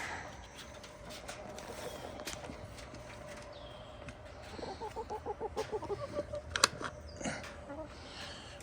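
Backyard chickens, including a hen that recently went broody, cluck in the evening, a run of close, soft, repeated clucks rising midway through over faint background noise, with a brief sharp sound near the end.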